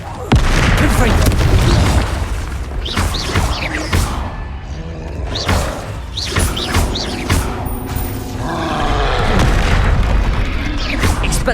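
Spell explosions in the video game Hogwarts Legacy: a run of heavy booms and crashing impacts in quick succession, with a voice shouting incantations over the battle.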